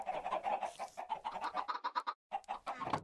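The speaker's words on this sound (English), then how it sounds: "the baby chicken just walked to their parents, this is already a chicken farm" Chickens cluck in a video game chicken farm crowded with baby chickens, a dense run of repeated clucks and short calls that pause briefly once before continuing.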